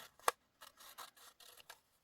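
Scissors snip through acrylic stamp pieces being cut into small journal embellishments, giving several short, crisp cuts with brief pauses, one sharper snip near the start, close and fairly quiet.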